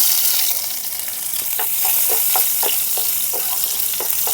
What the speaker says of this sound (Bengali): সামান্য একটু ভাজা ভাজা হয়ে গেছে রসুনগুলো